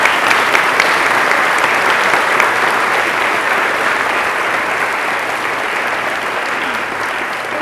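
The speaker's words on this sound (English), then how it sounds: "Please give these changemakers a round of applause." Sustained applause from a large crowd at an honors convocation, steady and loud throughout, with no talking over it.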